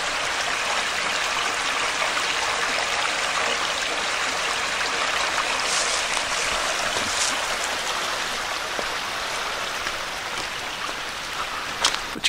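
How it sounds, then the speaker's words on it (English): A small mountain stream trickles and dribbles along a hiking trail, giving a continuous close hiss of running water with faint splashes and no voices. "there's some water just dribbling out of there too."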